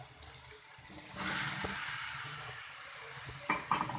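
Ridge gourd pieces tumble into an onion masala in a pan and are stirred, giving a faint, close scraping and soft sizzle that swells briefly, then settles, with a few sharper clinks near the end.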